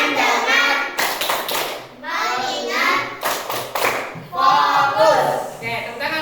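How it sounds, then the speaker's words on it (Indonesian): A class of children claps their hands in rhythmic bursts during a clap chant, the claps loud and close and alternating with a teacher and kids speaking. "Oke, tepuk tangan untuk kita semua."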